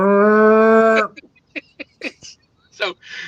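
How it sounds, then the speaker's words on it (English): A cow in a Tennessee cattle pasture gives one long, loud harmonic moo lasting about a second, close by, followed by scattered short sounds and faint voices. "down below, this cow comes walking by, and what do? You call him"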